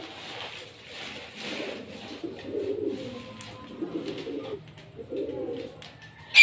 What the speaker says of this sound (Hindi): देखेंगे दोस्तों कितना गंद निकला है कबूतरों का।